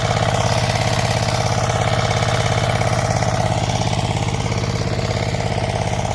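A small farm tiller's engine runs steadily at close range on firm, hard ground, a continuous mechanical drone with a regular low throb that keeps an even level throughout, with no voices heard.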